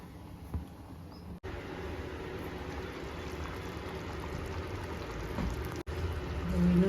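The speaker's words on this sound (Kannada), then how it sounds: "ಮೆತ್ತಗೆ ನುಗ್ಗೆಕಾಯಿ ಕುದೀತಾ ಇದೆ" Drumstick pieces boil gently in a lidded pot over a low flame. A soft, steady fizzing simmer continues throughout, swelling slightly toward the end.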